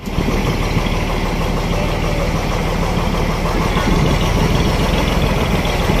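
An eco camp's tour boat engine runs steadily as it sets out past mangrove forest at Bagda sea beach, a loud, continuous low rumble with no breaks and no speech.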